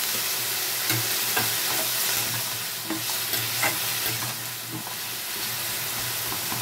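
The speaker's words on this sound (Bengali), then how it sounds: "এখন আমি এর মধ্যে পরিমাণ মতো একটু জল দিয়ে দিব, যাতে আলু ফুলকপিটা খুব ভালো করে সেদ্ধ হয়ে যায়।" Potato and cauliflower masala sizzling in a pan, a dense steady frying hiss with periodic soft scraping and bubbling pops, close and even in level, no one speaking.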